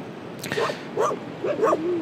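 A dog with a broken leg gives three short, sharp barks or yelps at close range, spaced about half a second apart over a quiet background.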